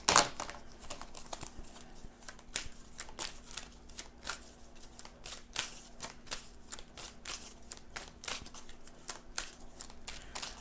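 A deck of tarot cards being shuffled by hand, with a dense run of quick papery riffles and flicks that continues steadily throughout, close and fairly quiet, with no talk over it.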